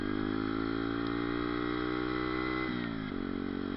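A Bullit 125 Hero motorcycle with its catalytic converter removed drones at steady revs in second gear, then drops briefly as the throttle shifts near the end, loud and close with no voices.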